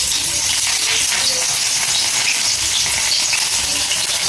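Green chillies hit hot oil with cumin seeds in a pan, giving a steady, loud, dense sizzle and crackle that holds evenly throughout, close up and without voices.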